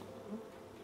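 Alien bee wasps in Factorio with the Pyanodon's mod give off a continuous low insect buzz, steady and faint, with a brief swell in the middle.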